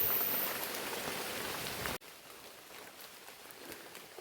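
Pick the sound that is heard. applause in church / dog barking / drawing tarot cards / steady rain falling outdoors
steady rain falling outdoors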